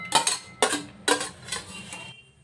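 Cooked food is pressed with a hand masher in a kadhai, giving three sharp metallic knocks in quick succession followed by softer scraping, close and distinct with no talking.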